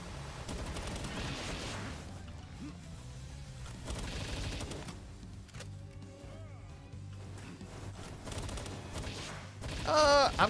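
Rifle gunfire in the Palworld video game crackles in bursts of rapid shots over game music and effects, with a sharper flurry near the end.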